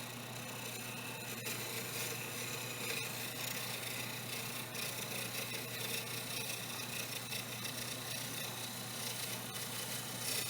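Wood lathe with a gouge in a pull cut on turning stock, taking light shavings: a steady, continuous broadband scraping hiss held close and even throughout, with no talk.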